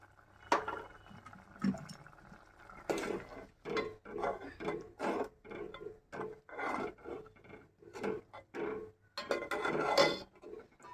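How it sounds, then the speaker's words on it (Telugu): A spoon stirs ground sesame into a ridge gourd curry simmering in a pan, making repeated scraping and clinking strokes against the metal in an uneven rhythm, close and fairly quiet. "ఇప్పుడు ఈ నువ్వుల్ని కలిపేస్తున్నాము"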